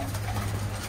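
Pigeons in a loft in Canada give a low, continuous throaty cooing, close and steady, with a hint of voices underneath.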